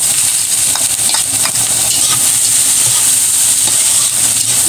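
Ginger sizzling in hot oil in a wok, cooked for bopis, hisses loudly and steadily with faint clinks of stirring, close by with no talk.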